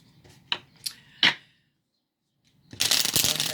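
Oracle cards being shuffled: a few crisp riffling snaps, a brief pause, then a dense, loud burst of rapid shuffling close by.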